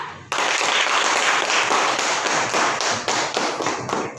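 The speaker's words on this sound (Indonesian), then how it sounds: "Berikan aplaus untuk kelompok 2." Classroom applause at an elementary school as a group of pupils finishes presenting, a dense burst of many children clapping that starts abruptly and carries on steadily for several seconds before thinning out.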